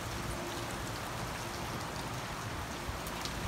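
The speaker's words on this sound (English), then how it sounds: "Here comes the rain. Just some big drops there on our driveway." Big raindrops fall onto a driveway in a Southern California summer storm, a steady, even patter of rain with no voices.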